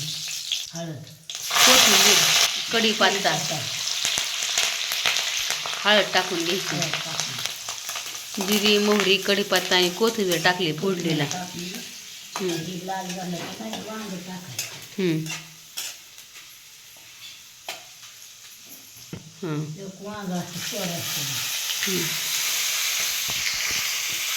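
Cumin being stirred and fried in a generous amount of oil while stuffed eggplant is cooked for a green-chili kharvang, with sizzling and spoon scraping running throughout under someone talking at length.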